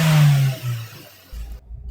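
An older Toyota Avanza's engine is revved, rising to a loud roar then falling back to idle, followed by a low steady running rumble close by.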